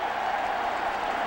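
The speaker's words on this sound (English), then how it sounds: "Crowd loves it here in Texas Stadium." A large crowd at Texas Stadium roars in a steady, continuous wash of cheering and applause during an NFL football game, Giants at Cowboys, heard at a distance without nearby talk.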